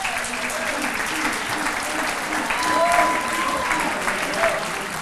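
An audience at an athletic hall of fame ceremony gives sustained applause and cheering, a dense, even wash of clapping with occasional whistles, continuous and fairly loud.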